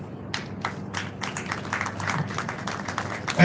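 An audience at the annual Faculty of Ophthalmology lecture claps steadily after the talk, a moderate, continuous patter of many hands that swells slightly toward the end.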